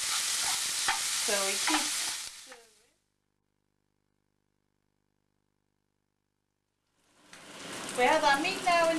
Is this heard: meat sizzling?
yes